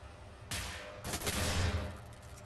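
Gunfire in the first-person shooter Wolfenstein: The New Order, two bursts of sharp rattling shots, the second longer and heavier, fairly loud with no talk.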